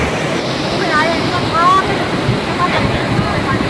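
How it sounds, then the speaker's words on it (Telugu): Hot water streams out of the Manikaran hot spring in a steady, loud rushing wash of water that continues without a break, with faint voices mixed in. "అక్కడ నుంచి వస్తుంది కదా చూడండి, హాట్ వాటర్ వస్తుంది చూడండి."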